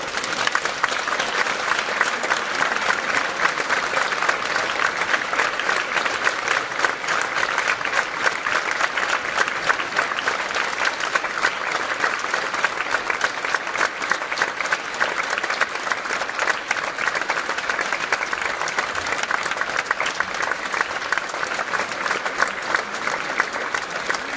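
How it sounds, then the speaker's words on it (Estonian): Sustained applause from a theatre audience at an awards ceremony, dense, steady clapping continuing throughout without pause. "Aplaus!"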